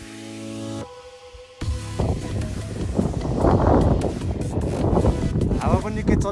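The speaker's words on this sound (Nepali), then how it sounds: "हावा पनि निकै चलिरहेछ" Strong wind buffets the microphone on a high mountain pass during a Mera Peak trek in Nepal, a loud, gusting roar that builds and stays heavy, with a voice speaking over it.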